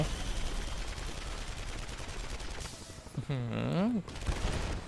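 Gunfire in the video game Marlow Briggs and the Mask of Death, dense rapid bursts of shots filling the first half, then a swooping tonal game sound, with a voice briefly heard.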